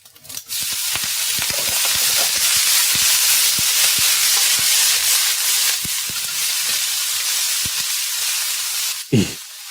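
Steady sizzling and hissing of food frying in a pan in a home kitchen late at night, loud and continuous, with occasional clinks and a brief thud near the end.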